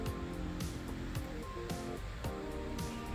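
Ocean waves wash in at a dog beach in the late afternoon, a soft, steady surf hiss with faint rhythmic swells, heard from a short distance and fairly quiet.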